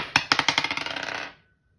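A 20-sided die is rolled across a tabletop, several quick clattering bounces that shrink into a fast rattle and then stop, close and fairly loud with no voices.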